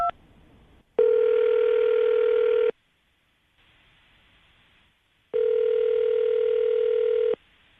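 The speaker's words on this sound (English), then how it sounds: "I'm gonna dial the phone number right now" Two long steady telephone tones separated by short gaps of near silence, each about two seconds, clear and close as a phone call is being placed.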